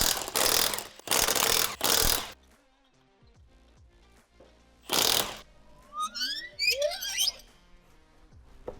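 A ratchet working on wheel removal on a C8 Corvette, three loud close bursts of rapid ratcheting in quick succession, then quieter clinks and one more burst, followed by light metallic rattling.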